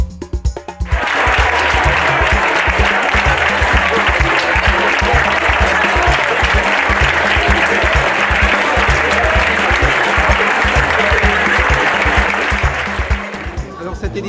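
Audience applause for the arrival of Geneviève de Fontenay at the 2014 Miss Prestige event, loud and sustained for about twelve seconds before fading, with a steady low rhythmic thump beneath the clapping.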